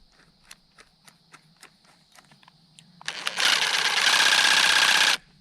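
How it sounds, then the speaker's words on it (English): After a few light clicks and taps, an impact driver fitted with a cutting attachment whirs on loudly and runs for about two seconds before stopping abruptly. "Snaps right into my impact driver."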